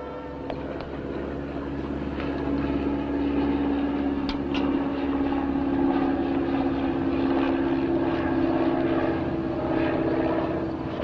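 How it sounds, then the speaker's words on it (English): An old jalopy's engine drones at a steady, moderate loudness with a low hum, heard alone in a forest setting with no one talking. "Well, it sure sounds like his old jalopy."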